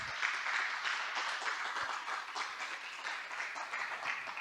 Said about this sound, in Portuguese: Diga a glória a Deus e aplauda o Senhor Jesus.